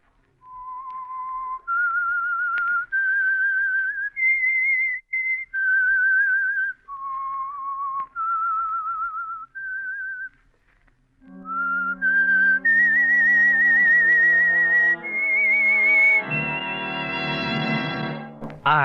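A lone whistled signal tune for The Whistler radio mystery show, a clear melodic phrase of rising and falling notes. Sustained chords from an orchestra swell in behind the second half.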